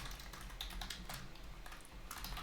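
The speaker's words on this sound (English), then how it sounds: "That was a lot of typing." Rapid, dense typing on a computer keyboard, a continuous clatter of keystrokes running steadily for a couple of seconds at moderate, close level with no voice.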